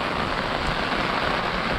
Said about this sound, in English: the rain is very constant rain like this